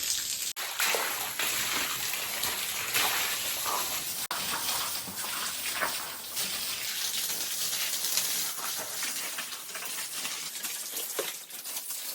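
Water from a well pump gushes steadily after the motor starts, a continuous loud rushing splash that holds for the whole stretch with no talk.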